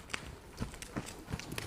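Hooves of a ridden horse strike the ground in a light, uneven rhythm during a riding lesson, a few soft thuds heard fairly close over a faint background.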